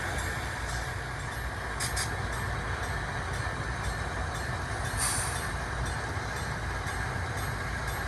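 A model locomotive rolls slowly across an indexed turntable on a layout with an engine terminal, giving a steady low mechanical rumble with faint metallic squeals and clicks.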